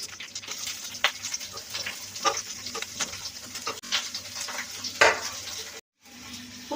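Sliced onions added to a pan with curry leaves for a coconut, mint and coriander chutney, frying with a steady sizzle and occasional stirring clicks and scrapes, close up with no talk.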